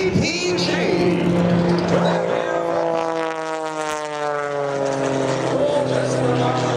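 Red Eagles biplane, an S2B with 60-plus horsepower, flying an aerobatic pass at the Abbotsford airshow: a loud, steady engine drone with shifting pitch as it pulls out of a dive low over the ground, a commentator talking over it.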